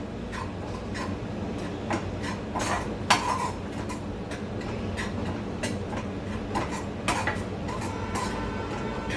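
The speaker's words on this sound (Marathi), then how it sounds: "आता आपण एक खोबरं थोडंसं भाजून घेऊया." Grated coconut roasting in ghee in a pan gives off a steady low crackle, with light metallic clinks and scrapes of a spoon against the pan scattered throughout.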